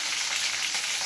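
Cumin, mustard seeds and green chilies fry in hot oil, giving a steady, close, loud crackling sizzle that fills the whole short moment without any voices.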